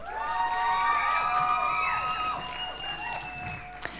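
Audience applause and cheering at a Scottish youth poetry slam, a sustained burst of clapping with whoops and shouts from a crowd, fading slightly toward the end.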